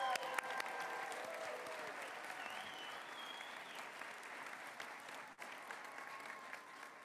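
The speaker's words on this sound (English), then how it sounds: "let's give another round of applause to our candidates" An audience applauds doctoral degree candidates at an evening ceremony, sustained even clapping from many hands at moderate distance that continues without pause.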